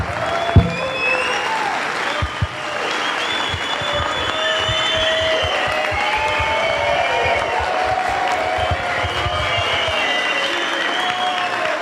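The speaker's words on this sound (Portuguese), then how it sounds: "Vamos levantar e aplaudir de pé Ciro Gomes" Standing ovation for Ciro Gomes at a political gathering in Brasília: sustained loud applause from a large crowd with scattered cheers and whoops, steady throughout, with faint voices mixed in.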